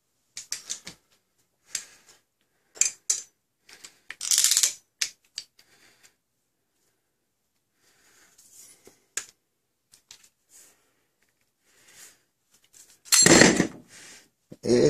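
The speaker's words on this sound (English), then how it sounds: "Let me take pipe cutter." A pipe cutter bites into a copper pipe for a Nerf Mega Big Shock dart blaster mod, giving off scattered short metallic clicks and scrapes, then a louder grinding burst near the end.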